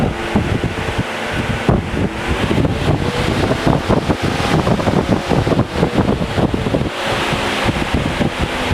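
An electric radiator cooling fan on a car runs at low speed, giving a loud, steady whooshing rush of air that carries on throughout with only slight fluctuations.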